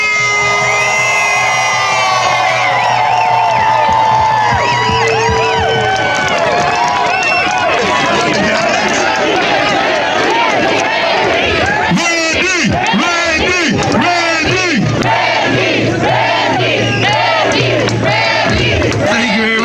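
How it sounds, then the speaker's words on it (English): A loud crowd at an anti-lockdown freedom rally in Stratford, Ontario cheers, shouts and whoops continuously for a Member of Parliament, with voices overlapping in a dense roar. "Please make some noise for the one and only Hillier"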